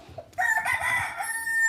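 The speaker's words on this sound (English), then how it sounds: "Cock crow anytime." A rooster crows once, close and loud, with a long drawn-out call that starts abruptly after faint background noise and carries on to the end, with no talking over it.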